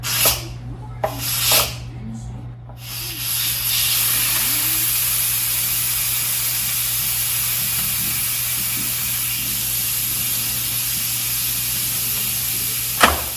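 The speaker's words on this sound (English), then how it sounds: "I'm going to do a release. This is going to be a lot of steam and a lot of noise." Instant Pot pressure cooker releasing steam after cooking shrimp risotto: a loud, steady, broadband hiss runs continuously from about three seconds to the end, preceded by a few brief clicks and bursts as the valve is opened.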